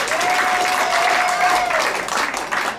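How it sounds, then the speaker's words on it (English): An audience claps at a live music tribute show, giving dense, steady applause for about three seconds that thins out toward the end. "Round of applause, because I can't see you."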